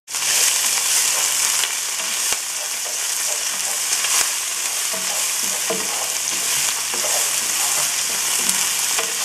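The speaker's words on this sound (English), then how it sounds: "Give it a good stir and switch off the stove when the onions turn golden brown." Onions with ginger garlic paste fry loudly in a pan, a dense continuous sizzle broken by repeated scraping and crunching stir strokes close up, no speech.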